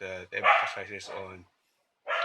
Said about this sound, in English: I think it's the neighbor's dog. That's not our dog.